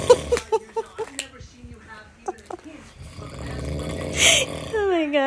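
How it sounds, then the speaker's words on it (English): A man snores loudly: a series of short, rhythmic rasping snorts close by, followed by talking and rustling over a rougher, louder breath. "he snores so loud"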